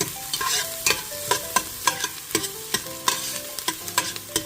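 Onions sizzling in a pan for a keto seafood chowder while a spoon stirs them, repeated sharp scraping knocks over a steady frying hiss, close and without speech.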